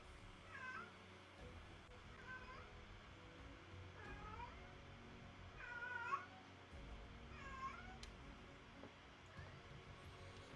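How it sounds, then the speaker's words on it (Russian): A restless house cat meows repeatedly, five or six drawn-out calls spaced a couple of seconds apart, fairly faint against a constant low room hum, with no speech. "Что-то у меня кот с ума сходит."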